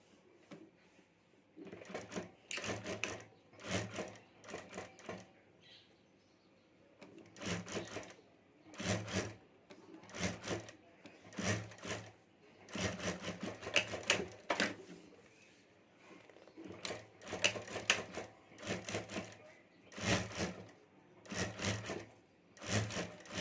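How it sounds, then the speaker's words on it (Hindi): A sewing machine stitches a border onto a handmade hand bag in repeated bursts of rapid, close, mechanical whirring, each run lasting a second or two and separated by brief pauses, with no talking. "यहाँ ऊपर सिलाई करके बॉर्डर लगा देता हूँ"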